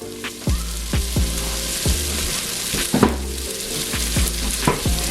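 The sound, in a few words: onions sautéing in a pan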